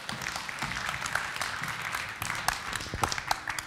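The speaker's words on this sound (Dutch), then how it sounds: "Maar eerst even applaus voor Nancy." Audience applause at a late-night maker movement event, heard as a steady patter of many hands with sharper individual claps standing out, moderately loud and without speech.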